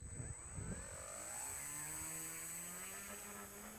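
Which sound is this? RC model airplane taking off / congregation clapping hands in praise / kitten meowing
RC model airplane taking off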